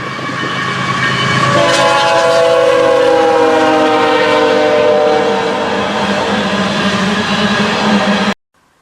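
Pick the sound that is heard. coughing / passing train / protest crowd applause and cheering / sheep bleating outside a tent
passing train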